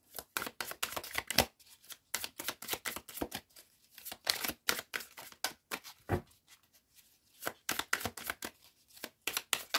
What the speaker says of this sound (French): je vais aller chercher quand même les cartes pour la vie professionnelle et sentimentale